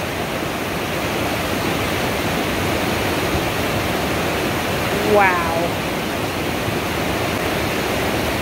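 Powerful rushing water from glacial meltwater at Franz Josef Glacier, New Zealand, roars as a steady broadband wash throughout, loud and close, with a brief exclamation from a man partway through.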